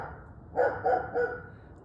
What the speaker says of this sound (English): I apologize for the dog in the background.